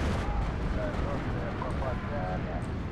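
A Katyusha rocket artillery barrage in Steel Division 2 rumbles as a dense, continuous roll of booms and crackling impacts, while someone talks over it throughout.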